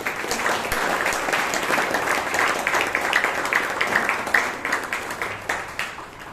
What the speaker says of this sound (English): Let us give a round of applause to our new members to welcome them.